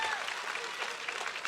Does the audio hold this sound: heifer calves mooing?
no